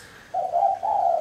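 A zebra dove (perkutut) gives a short, close coo in two quick phrases, clear and alone against a quiet background.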